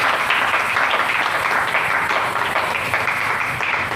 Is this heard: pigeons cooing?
no